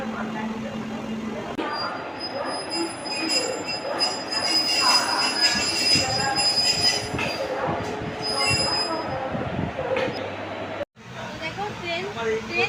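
A train pulling out of Asansol station, heard from on board or close by: rumbling wheels, metallic squeals and clatter build and carry on, with people talking nearby and a brief cut near the end.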